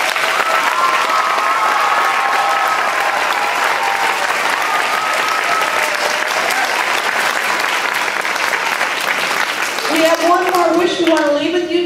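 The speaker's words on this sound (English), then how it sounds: "We also really need to give a big round of applause to the most fabulous music teacher in the entire world" Big round of applause for a music teacher at a school Christmas concert, loud sustained clapping filling the room with whoops mixed in, and a voice talking over the last couple of seconds.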